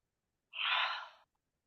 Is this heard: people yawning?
yes